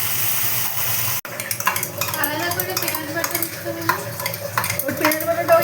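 A spoon stirs masala frying in oil in a pan, with scraping, clinking utensil strokes over a steady sizzle, close and busy after a short sharp knock at the start.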